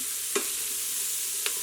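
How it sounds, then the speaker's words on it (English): Onions sweating in an Instant Pot, a steady soft sizzle with two sharp scrapes of a wooden spurtle stirring across the pot bottom, no talk. "we'll sweat these onions a little bit and kind of get some of this fawn off the bottom here"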